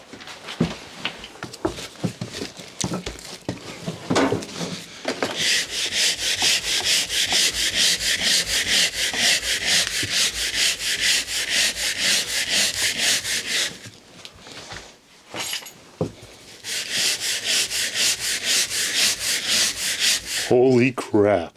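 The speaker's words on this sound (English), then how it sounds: "Let's start scrubbing" Steady, loud scrubbing of dirt and grime during a mouse-infested cleanup, continuous brisk rubbing strokes with a short pause midway before scrubbing resumes.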